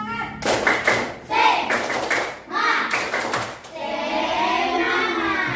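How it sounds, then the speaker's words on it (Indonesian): A classroom of students performs the 'tepuk semangat' cheer, with loud, rhythmic group clapping in bursts, with some voices and shouts mixed in, ending in a sustained cheer. "tepuk semangat dulu"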